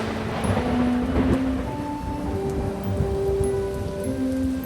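A storm pours steady, dense rain hiss with a low thunder rumble underneath, loud and continuous, while faint sustained musical tones drift through the background.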